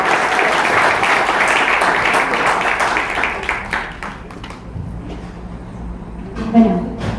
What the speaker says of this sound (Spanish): un aplauso por esa novedad que nos está haciendo.